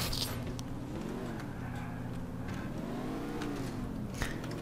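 A Nissan GT-R accelerating in Grand Theft Auto IV, its engine holding a steady, loud drone with rising and falling pitch sweeps as it revs, with faint background chatter underneath.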